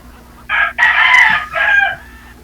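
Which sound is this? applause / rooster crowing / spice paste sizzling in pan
rooster crowing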